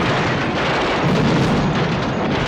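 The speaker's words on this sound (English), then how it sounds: "Miniature explosions is an effects man's nightmare" A loud, dense rumbling blast from a miniature explosion film effect roars continuously for a couple of seconds, like a small explosion with crackling debris.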